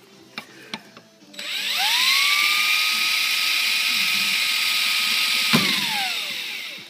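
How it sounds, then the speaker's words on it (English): A drill bores out a VW TDI diesel injector nozzle with a 2 millimeter bit: after a few handling clicks, a loud, high-pitched steady whine runs for about four seconds, then winds down. "That's how you fucking bore out your injectors."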